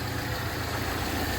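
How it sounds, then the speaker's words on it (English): A Fiat Seicento engine idles steadily after being revived from the scrap heap, a low, even mechanical hum with constant rumble and no speech. "it's idling pretty well."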